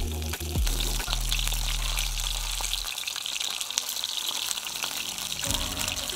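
Fresh fish frying in a salt-seasoned, lightly oiled hot pan on a stovetop by the waterside, a steady close sizzle with watery splashing hiss, a low rumble early on dropping away after a few seconds.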